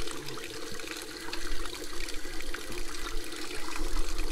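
Water flows through an engine block being flushed after soaking in Evapo-Rust, a close trickling and gurgling stream that swells louder and more turbulent partway through, with no talk.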